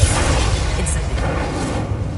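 Confringo fire spell exploding in Hogwarts Legacy, a loud, dense boom with heavy low rumble that sustains across the whole short moment without letting up.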